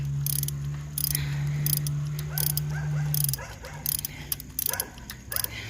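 A neighboring dog barks in short repeated bursts some distance away, mixed with sharp ratchet clicks and a brief mechanical hum from nearby spark plug work on an 800 Suzuki Intruder motorcycle.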